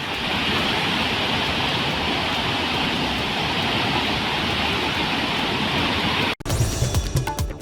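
Waterfall near Mahadev Khoh in Rohtas, Bihar, swollen into a sudden heavy flood flow after heavy rain: a loud, steady roaring rush of water that cuts off abruptly near the end.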